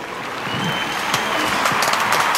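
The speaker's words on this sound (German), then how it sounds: "Das hat sich einen Applaus verdient" Crowd applause at a district festival in Vienna's Liesing district, held in the Kaufpark Alterlaa shopping centre, a steady, diffuse clapping that swells slightly toward the end.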